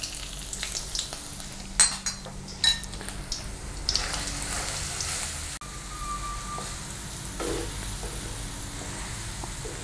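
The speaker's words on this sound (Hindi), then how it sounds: "ऑयल गर्म हो गया है, और हम इसमें डालेंगे लहसुन का पेस्ट।" Garlic paste sizzles in hot oil in an iron kadhai while cooking cauliflower and potato with panch phoron: a steady close crackle with a few sharp spatters and scraping stir clicks early on.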